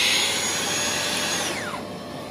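A Festool 18V brushless cordless TSC 55 K 160 mm plunge saw runs at a steady high whine, then spins down with a falling pitch near the end, close and alone.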